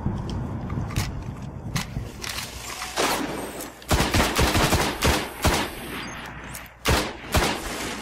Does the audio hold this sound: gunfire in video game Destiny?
yes